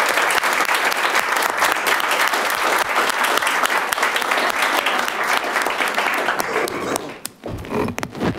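Sustained applause from an audience in a county board of supervisors meeting chamber, loud and continuous for most of the stretch before abruptly thinning out near the end.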